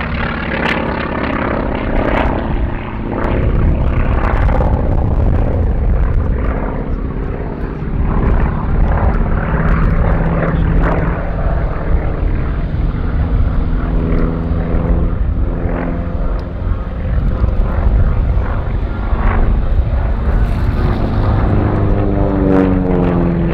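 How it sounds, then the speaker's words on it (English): A North American T-28B Trojan, a heavy 1954-built propeller trainer, performs aerobatics at the ILA Berlin air show with a loud, continuous radial-engine drone and propeller roar that rises and falls slightly as it manoeuvres nearby. "as the P-38 manoeuvres to land, taking centre stage again, the T-28 Trojan"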